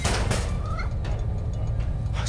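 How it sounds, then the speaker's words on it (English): A cat meows in the video game Marvel's Spider-Man: Miles Morales, a short rising call over a steady, busy game background with no talk. "Just need to find Tails' cat."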